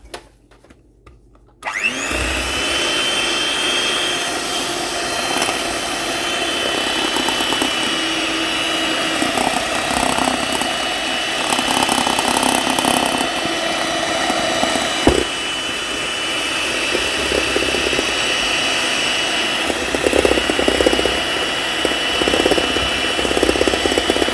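An electric hand mixer beats sugar into batter for a charlotte apple cake, making a loud, steady whirring drone up close that continues without a break for over twenty seconds after a short quiet start, with no talking.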